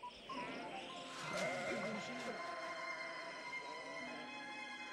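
Sheep bleating at night in the care of shepherds, a wavering, drawn-out bleat that rises over a steady background and then trails off, moderately quiet.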